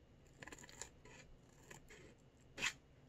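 Scissors snip coloured paper for a Brawl Stars papercraft box in a few short, quiet cuts close by, with a sharper, louder snip near the end.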